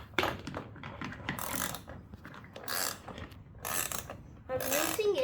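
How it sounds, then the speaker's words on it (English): A ratchet loosening a wheel bolt during a tire replacement, with bursts of clicking and mechanical rattling coming in several separate spells, close and fairly loud, with some talk in between. "I'm loosening the bolt."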